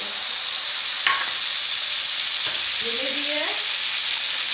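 Hot oil poured over a paste of black and white mustard seed, chilli and poppy seed sizzles in a steady, loud hiss, with a few clinks and scrapes and a brief spoken word.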